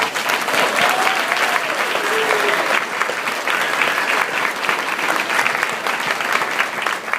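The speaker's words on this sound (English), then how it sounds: "Let's everyone give them another round of applause." Wedding guests give a warm round of applause at the reception, dense and steady clapping filling the room for several seconds, with a few voices briefly audible in the crowd.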